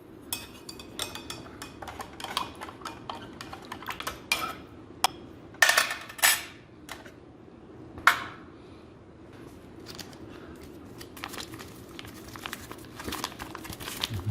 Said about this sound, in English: we'll give it a stir with the ForeignMRE.com spork